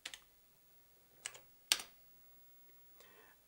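Keys struck on the keyboard of a 1986 IBM PC Convertible, a few sparse, isolated clacks spaced apart, close and fairly quiet with no voice, the third press the sharpest.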